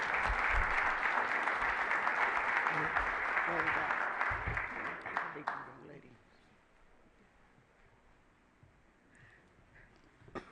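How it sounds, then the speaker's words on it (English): A crowd at an outdoor announcement in Buffalo, New York applauds Crystal Peoples-Stokes, with dense clapping and cheers for about six seconds before it fades into quiet room tone and a few stray sounds. "So, let's give her a round of applause."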